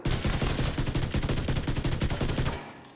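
Rapid automatic rifle fire in The Division 2 rattles off in a dense, steady burst of close, loud shots that runs nearly three seconds before cutting off abruptly.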